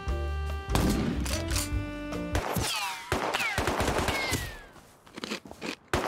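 Rapid gunfire from the video game Rust, several sharp shots and bursts with ricochet-like whines and impacts, mixed with other game effects and clatter.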